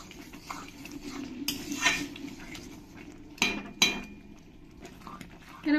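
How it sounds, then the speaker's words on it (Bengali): Ladle stirring boiled mung dal in a cooking pot, a few sharp metallic scrapes and clinks close by over a soft kitchen background, with a louder knock near the end. "এরকম একটা হাতা দিয়ে ভালো করে আমি মুগের ডালটাকে ঘুটে দেব"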